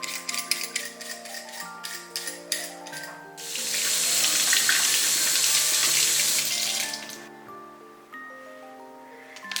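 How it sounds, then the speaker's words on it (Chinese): Running tap water rinsing green peppers and potatoes in a kitchen sink, a steady close splash that swells loudly in the middle and then tapers, with background music throughout. "先把青椒洗干净， 土豆洗干净削皮。"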